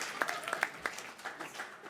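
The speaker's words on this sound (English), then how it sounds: "Give Brandon a big round of applause" Audience at a live comedy show at Mohegan Sun clapping in a brief, scattered burst of applause that thins out over a couple of seconds in a room.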